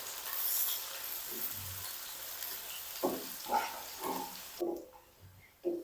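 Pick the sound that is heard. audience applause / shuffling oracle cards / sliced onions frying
sliced onions frying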